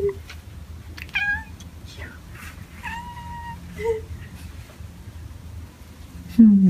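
A cat meows several times in short, rising-and-falling calls, spaced apart over a quiet background with low voices talking nearby.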